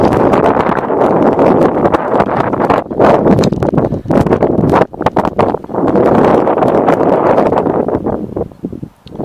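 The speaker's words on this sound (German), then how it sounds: "jetzt ist der Wind weg" Strong wind buffeting a camera microphone beside a lake with a small boat dock, a loud continuous rumbling roar that briefly drops out a few times before gusting again, with no voices.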